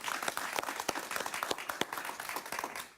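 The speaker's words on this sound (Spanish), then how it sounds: "Un aplauso para María Corina." Applause for María Corina Machado during a Spanish-language talk show, a thin, crisp burst of hand clapping lasting a few seconds with sharp individual claps over a steady patter, fairly close and moderately loud.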